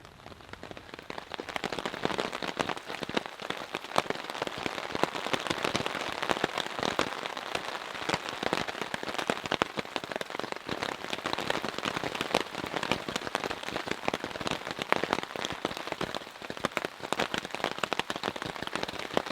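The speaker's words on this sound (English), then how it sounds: "I've been sleeping a few hours and the rain has started." Rain falling on a cheap Coleman tent while camping in the mountains, a dense steady patter of drops striking the fabric close by, with sharper individual taps scattered throughout.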